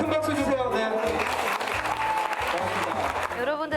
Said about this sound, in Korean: 여러분 큰 박수 주세요.